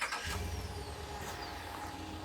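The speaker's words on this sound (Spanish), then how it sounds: "Lo segundo que puedo hacer con el vehículo es encenderlo con el botón" A 2020 RAM 1500 Limited pickup started with its push button: a short cranking burst, then the engine settling into a low, steady idle, quiet and close.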